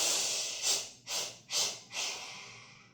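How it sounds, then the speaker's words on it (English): Four forceful, breathy exhalations blasted out through the mouth in a steady rhythm during a breathing exercise, each a loud whoosh of air close to the listener. "Exhale for 4, blast it out. Empty your lungs completely."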